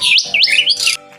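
A pet mimic bird kept as a household mascot chirps and whistles up close, loud rising and falling tweets in quick succession with a short pause before one last faint note.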